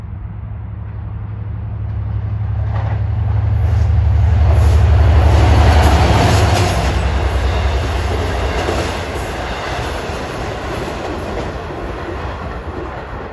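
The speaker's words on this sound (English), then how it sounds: "speeding east on 1 at 6 o'clock is train 664. Penn Station, New York to Port Jefferson." An eastbound Long Island Rail Road train from Penn Station to Port Jefferson speeds past at Elmont, its rumble swelling to a loud roar with rhythmic wheel clatter, then fading as it recedes.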